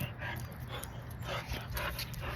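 Several large dogs play at some distance, panting, whimpering and yipping over a steady, noisy background with no speech.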